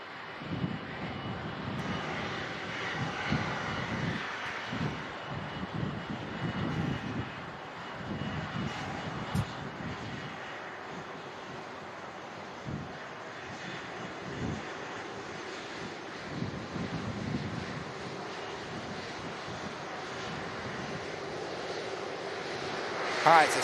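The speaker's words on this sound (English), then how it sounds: "next in, we've got an EasyJet coming in from Faro" An EasyJet Airbus A319 arriving from Faro at Manchester Airport drones steadily through strong gusty wind, its engine roar broad and sustained under buffeting microphone wind noise.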